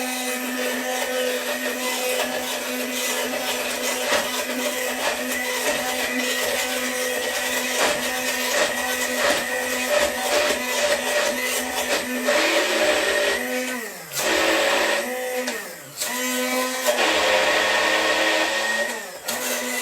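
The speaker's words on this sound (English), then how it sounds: "The blender just isn't going to be able to shoot it around and move this liquid around very much at all" A blender works through thick carrot cake muffin batter in a long, loud, steady whir. The pitch dips and strains briefly as the motor bogs down and restarts, and there is no talk.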